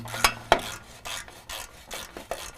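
A 12mm socket wrench works loose a penetrating-oil-soaked exhaust clamp bolt behind a catalytic converter during a Flowmaster Force II install, making close, rhythmic rasping strokes roughly twice a second with two sharper clicks near the start.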